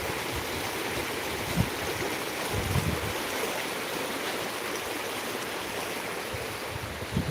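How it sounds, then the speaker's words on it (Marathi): Floodwater from the swollen Manjari river in Beed rushes fast toward Bindusara dam, a dense, continuous roar of churning water that stays steady throughout with no voices. "सध्यासुद्धा खूप वेगाने पाण्याचा विसर्ग या ठिकाणावरून बिंदुसरा डॅममध्ये होत आहे"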